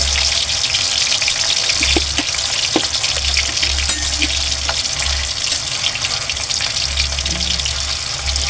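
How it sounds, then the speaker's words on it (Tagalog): Tofu fries in hot oil, a loud, dense, continuous crackling sizzle that fills the whole stretch, with a low intermittent hum underneath. "Mainit na po yung ating mantika. Ilagay na po natin yung ating tokwa."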